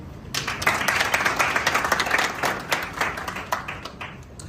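A crowd claps and applauds warmly at a welcome gathering at Prempeh II International Airport, steady and sustained, then tapering off toward the end.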